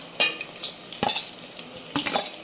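Onions hitting hot oil in a pan for mutton gongura curry, giving a loud, continuous sizzle broken by three sharp stirring scrapes, with no voices.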